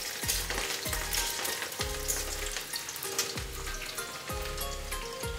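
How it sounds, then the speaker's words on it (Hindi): Onions frying in a pan for a jackfruit curry give a steady, dense sizzle throughout, with regular scraping strokes of a spatula stirring them at about one-second intervals. "प्याज डालेंगे, और प्याज को 1 मिनट भूनेंगे।"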